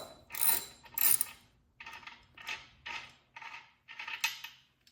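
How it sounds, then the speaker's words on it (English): A 15/16 socket wrench loosens a motorcycle wheel nut in a series of quick metallic ratchet bursts, about seven separate clicking strokes, close and clear with no talk. "you can grab your 15/16 socket and then place it inside to loosen it"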